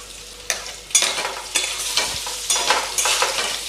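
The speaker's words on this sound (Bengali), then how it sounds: "ভালো করে ভেজে নেব।" Spices sizzle in a hot pan with turmeric and Kashmiri chilli powder over a medium flame, with steady close frying and a series of stirring scrapes roughly every half second, with no talking.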